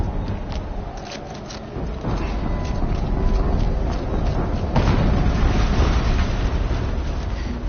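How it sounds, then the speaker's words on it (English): An explosion in the video game Horizon Zero Dawn, a heavy rumbling boom that swells and rolls on with a loud low roar, with a second surge partway through. "An explosion."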